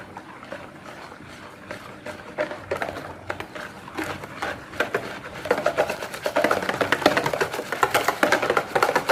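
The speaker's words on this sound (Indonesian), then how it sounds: "Aku aduk-aduk lagi." Batter of donut dough being stirred with dissolved yeast water in a bowl, a steady run of soft scraping, rubbing strokes up close that grow louder and busier toward the end, with no talking.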